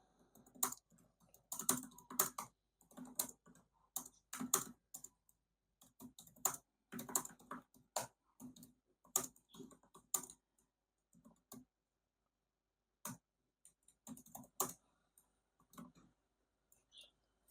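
Bursts of typing on a computer keyboard while entering text into a new file on a Windows 11 PC, with quick clustered keystrokes separated by short pauses, close and clear with no talking.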